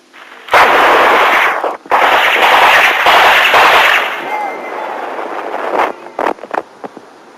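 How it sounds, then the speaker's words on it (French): A burst of gunfire during an assassination in Algeria, dense crackling bursts of shots with short gaps, followed by a few scattered single pops fading out. "un premier coup de feu, puis d'autres,"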